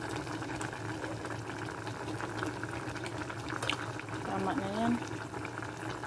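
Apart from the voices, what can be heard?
dugo-dugo (blood stew) boiling in a pot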